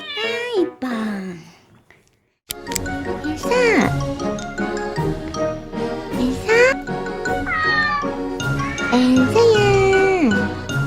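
A cat makes strange, drawn-out meowing cries, several rising and falling wails in a row, heard up close. A person's voice can be heard between the cries.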